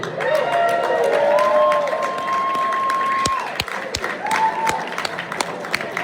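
Applause and light cheering from a crowd at an amateur motorcycle racing awards banquet, with clapping continuing under a sustained whistle-like tone and scattered sharp claps toward the end.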